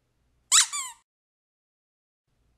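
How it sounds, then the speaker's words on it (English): A single cartoonish squeak sound effect rises and warbles for about half a second, loud and close, followed by silence. "Squeak."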